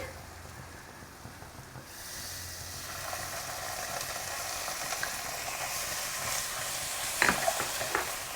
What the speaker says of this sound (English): So now you can add in the onion.